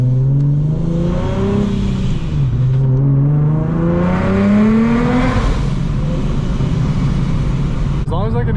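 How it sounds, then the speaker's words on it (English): Supercharged car engine revving on a street with a Soho A2A cog belt kit, rising and falling engine tones swelling over several seconds, with a brief sharp whoosh like a blow-off valve near the end. "As long as I can hear the blow-off valve"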